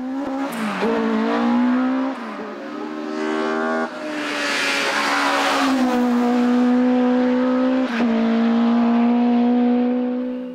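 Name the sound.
racing cars in a hill climb race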